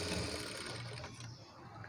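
A sewing machine stitches the neckline of an umbrella frock made from a saree, giving a brief, continuous mechanical whirr heard up close.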